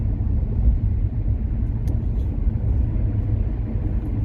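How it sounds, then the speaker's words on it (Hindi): Car bouncing along a badly potholed, broken highway at night in fog, a steady heavy low road rumble with thuds and jolts throughout, loud and continuous with no talking. "उछलती कूदती गाड़ी चल रही है।"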